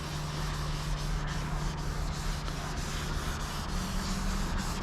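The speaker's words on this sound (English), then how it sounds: "I will just go ahead and kind of clean the surface here" A car dashboard surface being wiped with a foaming ceramic interior cleaner, close and continuous rubbing strokes with a soft, even swishing rhythm.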